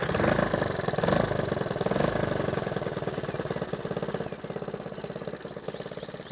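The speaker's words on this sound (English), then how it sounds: "you can see it's running on its own now" A Honda ATC 110 three-wheeler, a barn find just pull-started on choke, runs on its own with a loud, close, steady rapid single-cylinder chatter that holds throughout.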